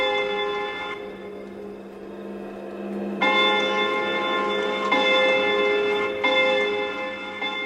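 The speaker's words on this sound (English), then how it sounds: "the clock's pendulum stops at an angle and it chimes 8 times" A pendulum clock, stopped at an angle, chimes eight times, bell-like tones that ring out and overlap. Each strike lingers with a long, humming decay, loud and close.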